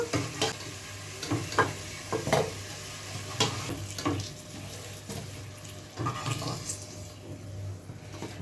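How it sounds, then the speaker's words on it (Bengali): Fried potatoes, browned in hot oil while making a chicken skin dish, are scooped out with utensil scrapes and clinks over a steady background sizzle, with a few sharper knocks spread through the clip. "এবার আমি আলুগুলো তুলে নেব, খুব সাবধানভাবে তুলবে তোমরা আলুগুলো।"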